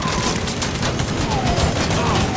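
Sustained, dense gunfire in the Mafia 3 Remastered video game fills the whole stretch as a steady, loud roar of overlapping shots, with no pause between bursts.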